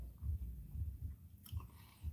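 Someone chews crunchy pie pastry close up, with soft rhythmic bites and muffled crunching repeating every half second or so, quiet and without speech.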